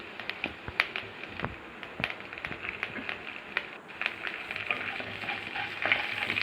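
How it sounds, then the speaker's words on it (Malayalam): Dried red chilies and urad dal crackle and sizzle in hot oil in a pan, giving a steady, fairly quiet spatter of small pops and fizzing close by, with no voices. "ഉണക്കമുളക് ഇട്ട് കൊടുക്കാം. ഇനി ഉഴുന്ന് പരിപ്പിട്ട് കൊടുക്കാം."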